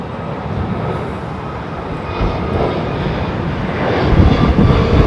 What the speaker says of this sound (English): This is JetBlue's 321 headed across the Atlantic.